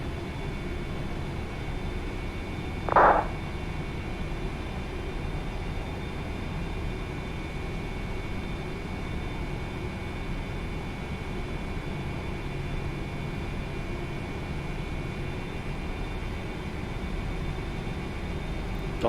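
A PMDG 777 airliner in a flight simulator rolls down the runway for takeoff, its engines giving a steady, heavy, broadband rumble and roar throughout. A brief higher tone chirps early on, and no one speaks.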